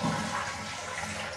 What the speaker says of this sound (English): That's how you flush the toilet.